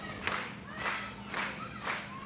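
A wrestling crowd rallies behind a wrestler at a main-event match, with rhythmic surges of chanting and clapping swelling about every half second in a sustained, moderately loud indoor roar.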